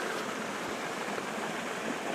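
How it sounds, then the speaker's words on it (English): Water rushing through a breach in a beaver dam in a wet meadow, a steady, soft broadband wash heard alone without voices. "you can see where the water's flowing through a breach right there"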